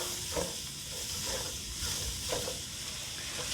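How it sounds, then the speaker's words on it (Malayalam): Sliced onions and curry leaves sautéing with salt in a pan, a soft continuous sizzle with a few faint stirring scrapes, quiet and close, no talking. "ഇനി കുറച്ച് ഉപ്പ് ചേർത്ത് നമുക്കിതൊന്ന് വഴറ്റിയെടുക്കാം"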